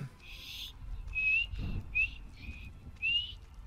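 A character in Skyrim whistles for a horse: several short, thin whistle notes in a row with brief gaps between them, fairly faint, with game ambience underneath.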